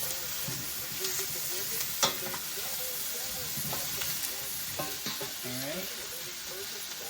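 Butter being stirred and mixed in a frying pan, a steady close sizzle with scraping spoon strokes throughout and a few sharper clicks of the utensil against the pan.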